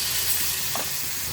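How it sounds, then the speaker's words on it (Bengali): Chicken pieces frying in hot oil in a pan, a steady close sizzle with a stirring scrape, continuous and fairly loud with no talking. "তেল গরম হয়ে গিয়েছে, এখন আমরা চিকেনটা দিয়ে দিব"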